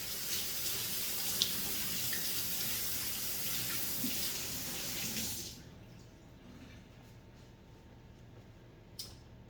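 Tap water runs into a kitchen sink while something is washed underneath during spare rib preparation. The stream stays steady and close for about five seconds, then cuts off, leaving quiet with a faint clink near the end.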